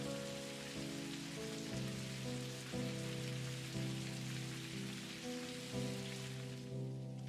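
Steady rain pours outside in the video game Necrobarista, a constant hiss of drops on surfaces beneath a soft, sustained musical drone.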